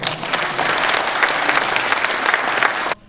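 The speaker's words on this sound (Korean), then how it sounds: "박수 한번 주세요" Loud, dense applause from an audience at an evening light-show demonstration in Bomun tourist complex, Gyeongju, sustained evenly and then cutting off abruptly just before the end.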